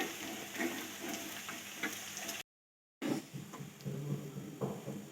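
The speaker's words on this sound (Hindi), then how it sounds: "लेकिन अब हम प्याज को फ्राई कर रहे हैं, क्योंकि ये प्याज हम तड़का लगाने के लिए फ्राई कर रहे हैं।" Onions frying for a beef nihari tadka, a steady soft sizzle with light stirring scrapes, faint and close, cut off by a brief silent gap before the sizzling resumes.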